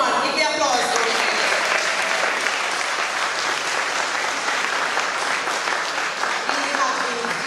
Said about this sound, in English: Come on, give the applause for me.